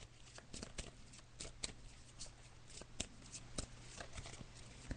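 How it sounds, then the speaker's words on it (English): Tarot cards being shuffled by hand, a quiet run of rapid, irregular riffling snaps and soft slaps repeating over several seconds, close and faint, over a low steady hum with no voices. "So I'm just shuffling the cards now."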